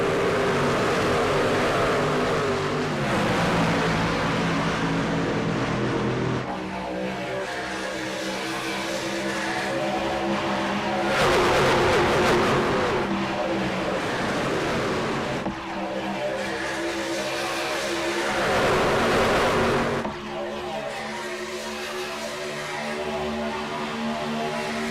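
Race trucks roar around the Fontana oval in an iRacing AREA Truck Series event, a loud continuous engine drone with passing swells and shifts in pitch as the pack runs together.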